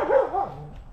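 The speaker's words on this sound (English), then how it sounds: "That's my dog." A dog gives one short, close bark that sweeps up and down in pitch, lasting about a second with no talking.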